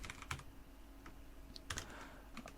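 Code is typed on a computer keyboard in quick, irregular runs of light clicking keystrokes with a few sharper taps, quiet and close against faint room noise.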